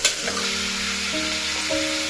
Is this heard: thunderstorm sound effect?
no